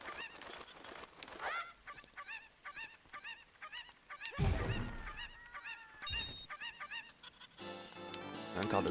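A cucco chicken in Zelda Ocarina of Time gives a fast series of shrill, nasal clucks and squawks, repeated many times and fairly loud, with a heavier burst of game noise partway through.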